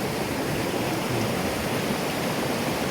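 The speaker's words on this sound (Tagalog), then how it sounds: "ito bukal dyan nagmumula yung tubig na amin umi iniinom" Spring water flowing out from under a rock, a steady broadband rushing stream heard close and continuous with no voices.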